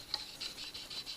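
File strokes rasp across the edge of a cheap axe, about five short, light passes in an even rhythm, close up and quiet with no talking.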